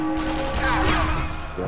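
Overlapping gunfire fills the co-op shooter Sniper Elite V2 in a battle around a church, a dense, continuous barrage of shots running through the whole moment.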